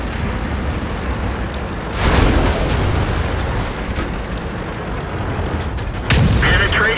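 Loud booming tank explosions in World of Tanks burst at intervals over a constant rumbling background, two heavier blasts standing out above the din.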